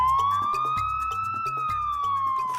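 Wailing emergency siren, a sweeping tone rising and falling over a pulsing rhythmic beat, loud and continuous with no voices.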